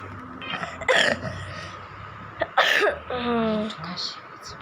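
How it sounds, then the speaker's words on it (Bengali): Two short, sharp coughs burst out a second or so apart, close and fairly loud, with a voice speaking briefly afterward. "একটু কাশি হয়েছে"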